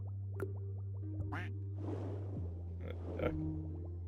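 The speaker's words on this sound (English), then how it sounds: "A duck." Duck quacking in a fishing video game, several short quacks and splashy blips over a steady low game drone and scattered chirps, moderately loud with no talk.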